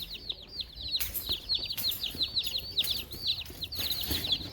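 Newly bought baby chicks chirping in a house, a dense run of rapid high peeping calls overlapping continuously, close and clear, with occasional rustling and soft thumps underneath and no talking.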